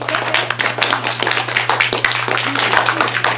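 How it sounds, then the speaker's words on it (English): A classroom of children clapping together in a round of applause, steady dense patter filling the moment, fairly close and loud with a constant low hum beneath. "let's do a round of applause"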